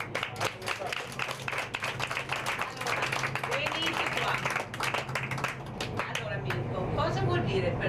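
An audience at an outdoor gathering in a city breaks into clapping, a dense patter of many hands that builds and carries on steadily throughout, with crowd noise mixed in.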